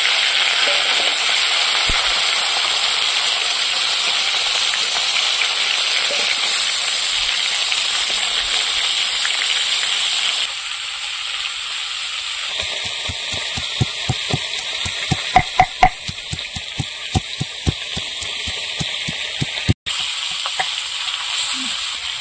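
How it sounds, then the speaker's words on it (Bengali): Silver carp pieces frying in oil left from frying chops, a loud, steady sizzle and hiss that drops lower midway, followed by a run of quick clicks and utensil taps over the bubbling. "এবার ওই চপ ভাজা তেলের মধ্যে মাছগুলো ভেজে নেব।"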